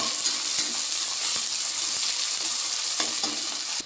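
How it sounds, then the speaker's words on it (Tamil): Mint and coriander leaves fry in oil for mushroom biryani, a continuous loud sizzle with occasional stirring knocks and scrapes against the pan. "நல்லா மிக்ஸ் பண்ணி எண்ணெயிலேயே நல்லா வதங்கட்டும்"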